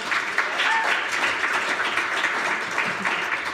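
Audience at a banjo concert clapping steadily in dense, close applause that holds through the whole stretch without pause.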